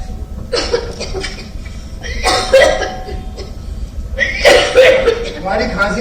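Several bursts of coughing in quick clusters, close and fairly loud, with a steady low background hum beneath them.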